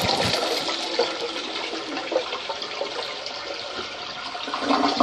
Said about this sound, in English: wipe, and then flush.